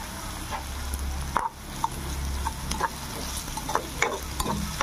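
Onion, green chili and ginger-shallot paste frying in oil in a pan for a dried fish curry, a steady sizzle broken by a few light stirring clicks and scrapes, close and alone with no talking.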